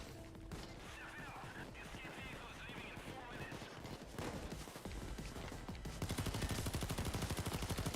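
Gunfire rattles through a heist video game: rapid, repeated shots and bursts at moderate loudness, growing into a denser machine-gun stream toward the end, with a player talking over it.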